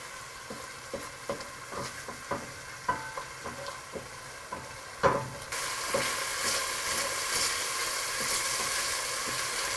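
Steady sizzling of onion paste frying in hot oil over high heat, with scattered clinks and scrapes of stirring early on, then a louder, denser sizzle.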